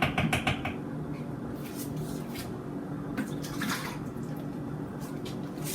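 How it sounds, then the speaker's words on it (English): Homemade sofrito, a Spanish seasoning, pours into a bowl as a quiet run of wet drips and splats broken by a few sharp taps, close by, with no voices. "I'm going to go ahead and pour it into this bowl right here"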